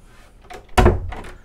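A cabin door aboard a Linssen Grand Sturdy 45.0 AC motor yacht closes with one loud, close thud and a brief rattle, preceded by faint handling sounds in a quiet interior.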